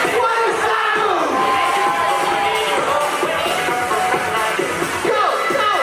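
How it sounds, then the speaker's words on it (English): A loud, dense crowd cheers and yells continuously at a dance battle aboard the Carnival Horizon cruise ship, with whoops rising over the roar. "Give these two a round of applause."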